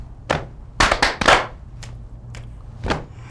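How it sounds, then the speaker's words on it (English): Hands clap a rhythm of sharp, close claps: a single clap, then three quicker claps bunched together in the middle, followed by a few more evenly spaced claps, with no talking. "Three claps. I did three claps in the middle. They were faster, weren't they"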